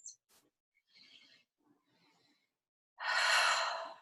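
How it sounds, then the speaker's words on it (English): Deep breathing at the start of an EFT relaxation session: a few soft, quiet breaths, then one long, loud, close exhale like a sigh, with no speech. "I like to just take a couple breaths"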